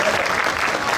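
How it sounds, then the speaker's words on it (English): Audience applause at a Rally Australia 2017 event, a dense steady wash of clapping held at an even level throughout, close and loud. "Give him a big round of applause, everybody."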